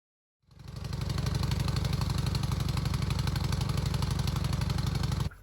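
Rototiller engine running in a front-yard garden, starting up from silence and settling into a loud, steady, close puttering drone that holds evenly before dropping off at the very end.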